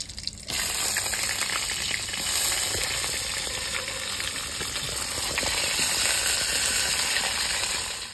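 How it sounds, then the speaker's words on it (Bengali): Eggplant frying in hot oil in a pan, a steady loud sizzle that starts abruptly and carries on evenly throughout, with no talking. "বেগুনগুলো হালকা করে একটু ভেজে দেবো।"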